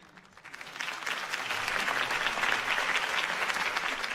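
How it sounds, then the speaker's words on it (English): Applause from a crowd swells in after a quiet moment and holds steady as sustained clapping. "could have heard that applause"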